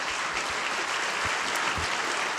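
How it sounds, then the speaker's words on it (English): Steady applause from an audience at the 2025 Indy 500 victory celebration, a dense wash of clapping hands that continues without a break throughout. "yes, you can clap."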